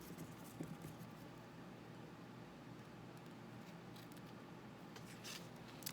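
Soft, steady snipping of scissors through paper or fabric against a constant background hiss, with a few brief crisper cuts near the end.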